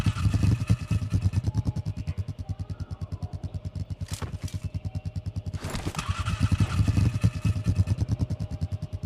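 A desert buggy's engine idling and running, a close, steady rhythmic chugging rumble with a rattling edge and a couple of brief louder swells.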